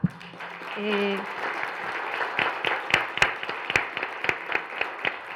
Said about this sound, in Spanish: Pues damos un aplauso a la mesa.